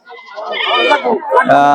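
A local goat bleats at a livestock market in Bhaluka, one loud, close, wavering cry lasting under two seconds.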